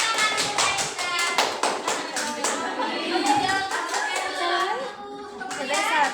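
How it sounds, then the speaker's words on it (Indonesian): Classroom children clapping together during a lesson, a rapid burst of overlapping hand claps, fairly close and loud, with children's voices and chatter mixed in. "tepuk tangan untuk Aisyah"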